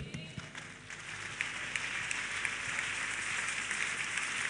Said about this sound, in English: If you are clapping for Jesus, you can do better.